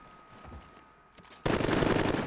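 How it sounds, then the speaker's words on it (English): Gunfire in a Call of Duty match erupts suddenly as a loud, dense burst of rapid shots after a quieter stretch of game ambience. "Oh, somebody got shot over there."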